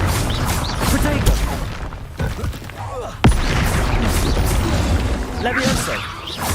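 Fiery Confringo spell blasts in Hogwarts Legacy crackle and thud amid combat, with one sharp explosive crack standing out midway over continuous clashing effects and bursts.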